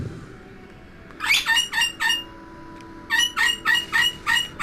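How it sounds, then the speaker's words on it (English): A pet bird squawks indoors in two loud bursts of four to five harsh, rapid calls each, separated by a short pause, over a faint room hum. "Bird included."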